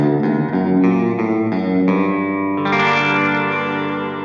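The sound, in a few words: electric guitar with heavy reverb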